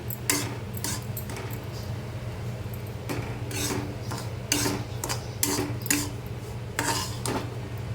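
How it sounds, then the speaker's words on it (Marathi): A spoon scraping and stirring semolina as it dry-roasts in a kadhai for Diwali karanji filling, a steady rasping rub with repeated metallic scrapes against the pan, close and without talking. "तर व्यवस्थित आपण रवा भाजून घेऊया"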